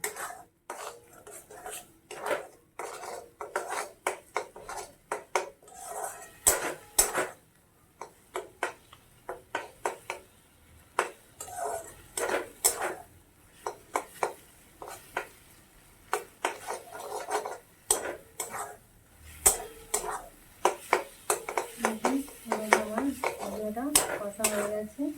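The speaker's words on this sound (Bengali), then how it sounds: "মশলাটা এইভাবে ভালোভাবে কষে নিতে হবে, ডিমের সাথে একসাথে এটাকে আমি কষবো।" Eggs and spice masala being stirred and fried together in a pan, with repeated sharp scraping and clanking of a utensil against the metal in an uneven rhythm, close and fairly loud, no talking.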